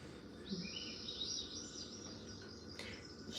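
Birds chirp and call in a steady, overlapping chorus at moderate distance, high and bright, with a faint insect-like hum underneath and no talking.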